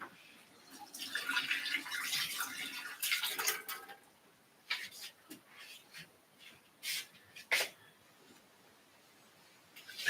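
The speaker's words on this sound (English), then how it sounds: "I'm going to take it over here to the sink and rinse it out" Water from a sink tap runs and splashes as a part from an Oxo Rapid Brewer coffee maker is rinsed out. The flow is steady, with irregular louder splashes and drips, fairly close.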